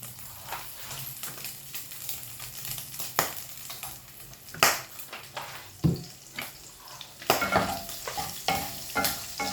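Pork fries in cooking oil in a pan with a constant crackling sizzle, while repeated loud scrapes and knocks of a spatula stirring come at an irregular pace throughout.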